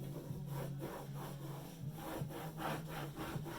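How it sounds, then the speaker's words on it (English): Transfer tape is swiped firmly over vinyl on a surface, making a few rhythmic rubbing strokes that sound close and fairly loud, with no talking. "We're going to give it a few swipes just to make sure that everything is stuck nice."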